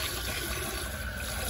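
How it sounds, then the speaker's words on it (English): Water gushes steadily into a 1998 Universal Rundle Athens toilet bowl as it refills after a flush, a dense continuous rushing hiss close by that holds level throughout. "The bowl refills really quickly just because this thing puts out way too much water"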